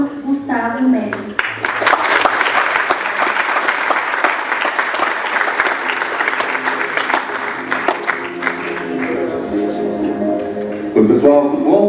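A conference audience applauds long and warmly to welcome a speaker to the stage for a talk on AI. The clapping is full and sustained for several seconds, with voices briefly heard before and after.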